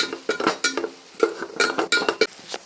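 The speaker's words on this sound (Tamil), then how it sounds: "அதை நல்லா கலக்கிட்டுக்கலாம்." A spoon clinks and scrapes against a pan as spices are stirred into radish curry, a series of short metallic taps and scrapes in an irregular rhythm, close by and with no talking.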